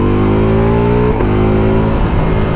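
A Ducati Multistrada motorcycle accelerates hard in race mode in third gear, its engine a loud, continuous, close rising roar with a brief dip at a shift before it climbs again.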